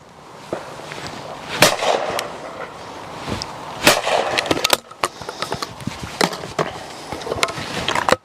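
Browning Ultra shotgun firing at clay targets outdoors, several sharp sudden reports spaced a few seconds apart over a faint background, each with a brief decaying tail.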